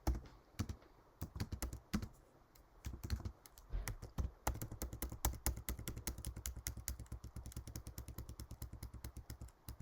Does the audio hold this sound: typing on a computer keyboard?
yes